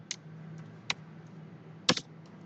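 A few scattered clicks of computer keystrokes, sharp and close, with a faint low hum between them and no talking.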